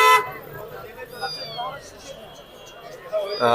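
A cat meows a few times amid the crowded Friday bird market at Mirpur 1 in Dhaka, near the bus stand, with market voices and general bustle around it.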